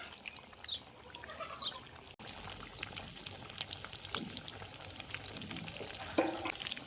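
Upvasacha batata vada, fasting-style potato fritters, deep-frying in hot oil: a steady, close crackle and hiss that drops out briefly just after two seconds, then carries on evenly.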